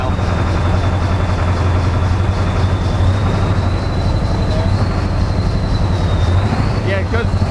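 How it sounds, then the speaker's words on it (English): A diesel engine with low fuel pressure running rough as its injectors cut in one after another, a loud steady low rumble with a whining tone that wavers as the revs jump, close by. "You'll start feeling one injector come on, then another, and the RPM will start jumping."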